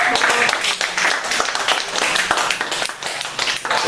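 Applause fills a church service, with dense clapping from a congregation sustained close and loud throughout, with scattered voices mixed in.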